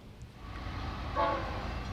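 An eastbound freight train, Q192 with Union Pacific units, sounds its horn briefly near the tracks at Deshler, Ohio, a steady tonal blast rising over a low rumble of rail noise.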